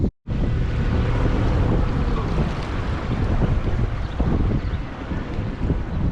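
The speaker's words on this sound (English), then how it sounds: "the wind is just absolutely shredding me out here" Strong wind roars steadily into an exposed microphone on a fishing boat on Big Lake Chain in northern Indiana, a loud, buffeting rumble with gusts that never lets up, broken only by a brief dropout at the start.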